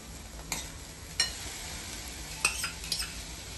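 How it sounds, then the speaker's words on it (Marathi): Chopped onion sautéing in a pan while being stirred, a steady low sizzle broken by a few sharp spoon-against-pan clinks; no talking. "कांदा आपला तुम्ही बघू शकता कांदा छान परतला गेलाय"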